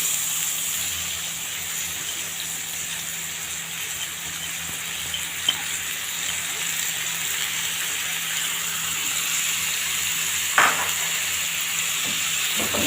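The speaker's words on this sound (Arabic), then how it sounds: "ندي تشويحه كده مع بعض" Rice sautéing in a pan while being prepared for a stuffed oven-roasted chicken leg dish, a steady close sizzle with occasional faint stirring clicks and scrapes.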